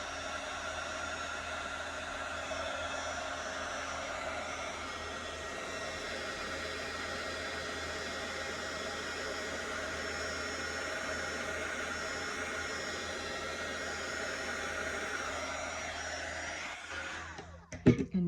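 Heat embossing tool blowing a steady, loud rushing whir over embossing powder on a card for a second coat, running continuously before cutting off with a few clicks near the end.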